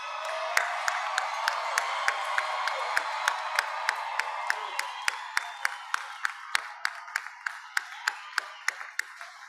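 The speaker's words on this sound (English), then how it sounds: "last round of applause" Graduates and guests at Prairie View A&M University's spring commencement break into a sustained wash of crowd noise and cheering, with loud, evenly spaced claps standing out above it throughout.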